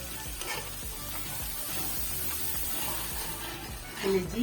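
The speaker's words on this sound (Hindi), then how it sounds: "पहले हम इसको भूनेंगे" Tomatoes and masala frying in a pan for kaleji (liver masala) give a steady close sizzle with occasional stirring scrapes, growing briefly louder near the end.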